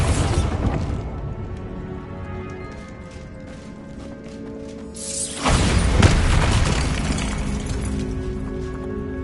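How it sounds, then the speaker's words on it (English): A Bombarda explosion spell goes off in the Hogwarts Legacy video game, a loud booming blast around the midpoint after a stretch of low rumbling game ambience, followed by a sustained roar of debris and echo. "Bombarda"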